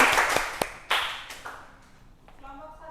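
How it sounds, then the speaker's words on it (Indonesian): Students in a classroom give a short round of scattered claps, a few sharp slaps up close, which fade quickly before a voice starts talking. "Beri tepuk tangan."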